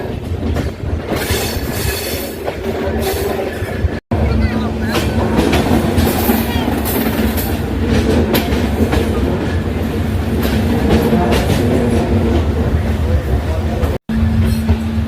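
Kolkata–Gorakhpur Purbanchal Express heard from on board as it rolls out near Patipukur: a loud, steady rumble with rhythmic wheel clatter and squeal over the rails, briefly cutting out twice, with passengers' voices mixed in.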